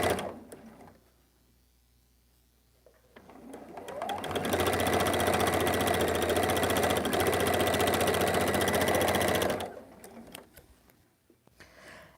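A sewing machine stitches small fabric scraps for scrappy Christmas tree quilt blocks. After a quiet start, a loud, steady motor whir runs for about five seconds, then stops.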